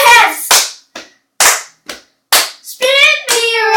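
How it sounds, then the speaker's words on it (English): Hands clap sharply several times in a steady beat over a dance song, with a singing voice carrying the tune toward the end. "Everybody clap your hands."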